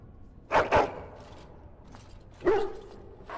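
A dog in the Dragon Age: Origins video game gives two quick barks close together, then a single louder bark a couple of seconds later, over quiet game ambience.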